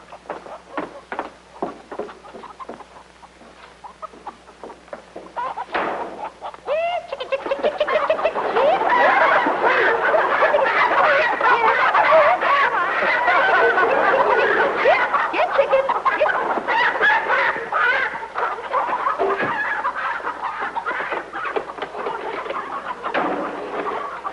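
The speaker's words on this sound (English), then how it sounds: "This way to the chicken coop." Chickens in a coop cluck and squawk, starting with scattered calls and swelling after several seconds into a dense, loud, continuous flock chorus that carries on to the end.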